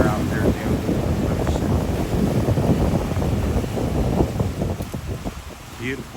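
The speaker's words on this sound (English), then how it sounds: "The waves are about 2 or 3 feet high here." Steady wind rushes against the microphone on a rocky ocean shore in Barotac Viejo, Iloilo, Philippines, where waves of two to three feet wash in continuously, forming a loud, dense roar that never lets up.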